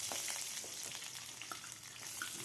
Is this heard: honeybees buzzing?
no